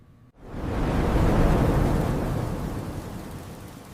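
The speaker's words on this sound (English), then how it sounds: "It's raining outside." A heavy rumble of thunder rolls in over steady pouring rain outside, swelling quickly after a brief quiet and then slowly fading under the continuous downpour.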